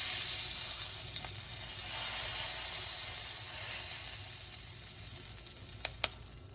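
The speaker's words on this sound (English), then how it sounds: "Let it sit for another second in here in the hot oil" A steak sizzles steadily in hot oil in a pan, a constant close hiss with a couple of sharp spits near the end, heard alone.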